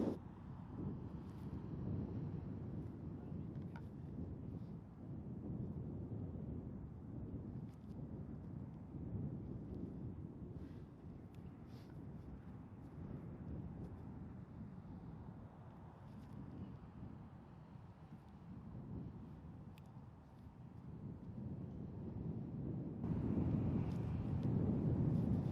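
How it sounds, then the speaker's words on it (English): Wind buffets the microphone across an open disc golf field, a steady low rumble that swells louder near the end, with a few faint ticks and no speech. "right now I got some wind blowing from right to left"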